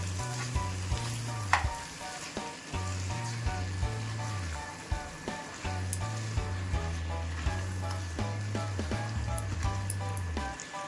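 Half-crushed garlic cloves sizzle in hot oil for a Bangladeshi country chicken red curry, a continuous close frying hiss broken by repeated low scraping stir strokes.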